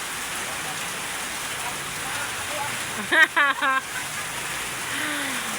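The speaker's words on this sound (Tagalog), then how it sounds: "Malakas ang ulan dito mga kaminol, so hindi nyo masyado marinig ang ano namin" Heavy rain pours steadily as a dense, constant hiss throughout, while a voice briefly speaks over it midway.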